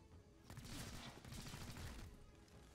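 Gunfire in the XCOM: Chimera Squad video game rattles at a commando as a faint, dense burst of rapid shots lasting a couple of seconds before trailing off.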